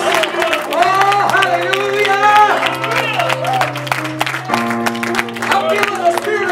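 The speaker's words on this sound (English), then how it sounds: "Let's give Him a hand clap of praise." A worshipping congregation at a Sunday church service claps in praise, steady dense clapping mixed with crowd cheering, music and voices throughout.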